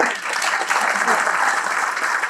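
An audience applauds loudly and steadily with dense, continuous clapping at a talk on Gujarati identity, the ovation holding at full strength throughout.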